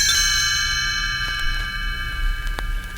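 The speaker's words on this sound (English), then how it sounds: "You will know it is time to turn the page when you hear the chimes ring like this." Chimes ring out as a page-turn cue, a bright, sustained metallic tone that starts at once and slowly fades over a few seconds with no other sound.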